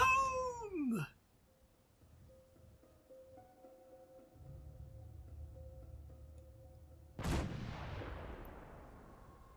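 A Fallout 4 Minutemen artillery strike lands as one loud, sudden blast that rolls into a long fading rumble, after a brief high whine and several seconds of quiet low hum.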